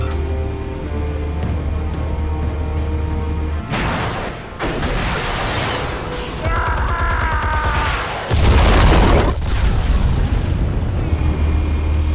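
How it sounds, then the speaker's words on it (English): Explosions and heavy blasts in the Batman: The Telltale Series video game, with a series of loud booms and crackling debris bursts following in quick succession over a low, rumbling game soundscape. "Explosives armed. Fire when ready."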